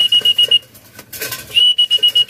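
Sharp, high trilling whistle blown to call pigeons into a trap, sounding in two close bursts of rapid pulses at the start and end with a quieter gap between.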